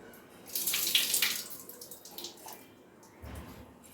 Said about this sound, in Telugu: మళ్ళీ మంచి మంచి వాటర్ పోసుకుందామండి